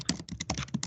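Rapid, close clicking of fingers typing on a computer keyboard, a dense irregular patter of keystrokes during a meeting, with no voices.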